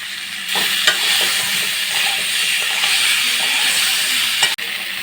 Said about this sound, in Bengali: তো বেশ কিছুক্ষণ আমি নাড়াচাড়া করে নিয়েছি, আর টমেটোগুলোও একেবারে মিশে গেছে আলুর সাথে